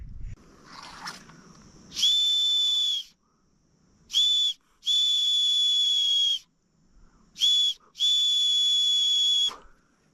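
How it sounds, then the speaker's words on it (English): An emergency whistle clipped to a backpack is blown in the hot, remote Australian outback, giving four shrill blasts: one about a second long, a short one, then two longer ones with brief gaps, loud and close. "That's an emergency whistle. It's a clip on my bag with a whistle on it."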